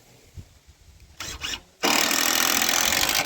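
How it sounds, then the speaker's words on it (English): A saw cuts through a wood edge to trim it flush while building a chicken coop, beginning with a few short rasping strokes and then a loud, steady sawing run heard up close. "Just cutting that edge off flush."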